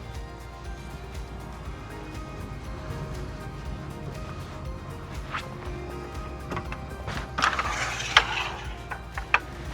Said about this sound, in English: And then releasing the ratchet, rolling the awning back up